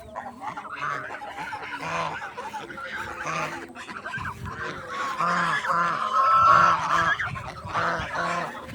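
A large flock of domestic geese crowds a village road, honking over and over in a dense, overlapping chorus close by, with a person's voice now and then.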